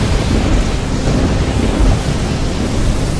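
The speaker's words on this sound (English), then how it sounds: "I see a storm coming." A thunderstorm in a cartoon animation: a steady, loud, rolling rumble of thunder and rushing storm noise that fills the whole stretch without a break.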